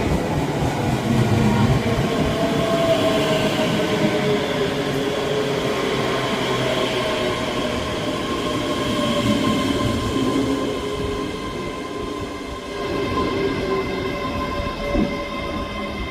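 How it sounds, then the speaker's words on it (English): Scotrail class 385 electric train, unit 385043, arriving at Edinburgh Haymarket station, a sustained loud rumble of wheels and motors with faint whining tones, easing slightly as it slows, with no talk. "Arriving in now is the 11:58 Scotrail service from Glasgow Central to Edinburgh Waverley, 385043."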